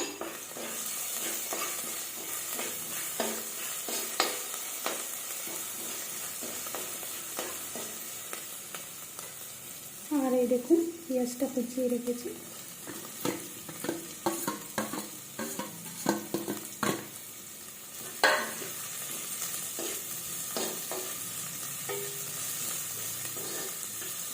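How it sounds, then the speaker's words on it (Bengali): Garlic and ginger paste frying in a pan for palak paneer, a soft continuous sizzle with intermittent stirring scrapes, busier clattering strokes midway, close but fairly quiet, no voices. "এবার দিলাম রসুন বাটা এবার দিয়ে দেবো আদা বাটা"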